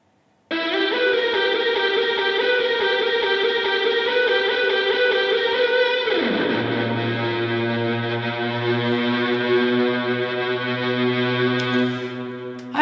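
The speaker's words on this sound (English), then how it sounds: "If you listen to the strings, now with the pitch bend and everything." Synthesized strings built with stock Logic Pro instruments in a remake, playing sustained harmonic chords that swell in, then glide down with a pitch bend midway and settle into a lower, steady chord; loud and alone, no talking.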